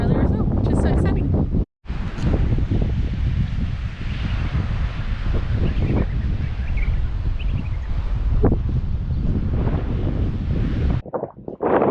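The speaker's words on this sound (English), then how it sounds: "It is super, super windy up here" Strong wind on an exposed coastal clifftop at Cape Bridgewater, a loud steady roar buffeting the microphone almost without pause, with a voice faintly under it.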